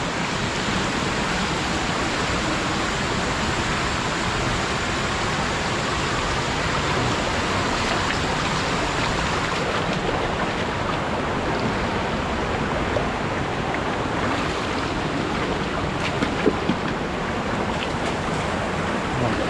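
Strong rush of water flowing without letup, a dense, loud, even roar from start to end with only faint small knocks near the end.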